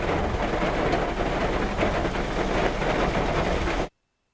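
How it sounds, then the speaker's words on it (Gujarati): Heavy rain pours during a storm that flooded Olpad near Surat after about six inches of rainfall. A loud, dense, continuous hiss runs without a break, then cuts off abruptly just before the end. "હજુ પણ વરસાદ વરસી રહ્યો છે"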